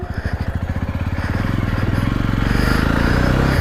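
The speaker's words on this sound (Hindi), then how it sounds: "एक्चुअली बाइक स्टार्ट है ना" A Jawa 42 motorcycle engine idles nearby with a steady, rapid putter that gradually revs slightly higher and louder.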